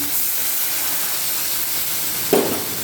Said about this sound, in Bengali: মশলা থেকে তেল ছেড়ে দিয়েছি, জলটা এবার দিয়ে দিচ্ছি।